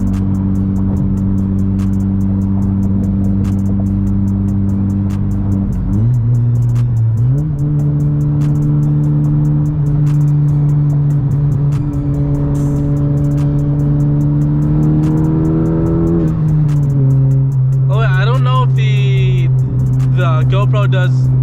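Tuned 2019 Honda Civic Si running catless with a DVR exhaust on E85 drones steadily while driving at night, a low constant hum that rises with revs and shifts, heard close from inside the cabin with no talking.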